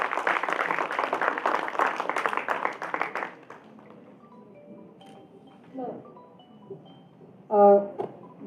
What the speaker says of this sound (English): A big round of applause before Tara ma'am arrives here